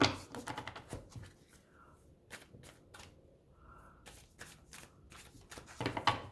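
A deck of tarot cards is shuffled by hand in quick bursts of crisp riffles and soft slaps, with short pauses between, close and fairly quiet.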